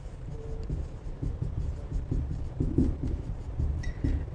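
Chalk or marker writing on a board during a chemistry lesson, heard as soft, steady scratching strokes close by over a low room hum, with no talking.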